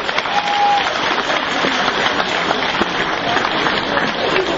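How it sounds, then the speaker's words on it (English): Loud audience applause at a Nigerian comedy show, a dense, sustained roar of clapping filling the room, with faint crowd noise underneath. "I think he deserves a better round of applause"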